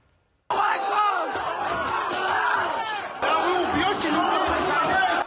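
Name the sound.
angry crowd storming Makhachkala airport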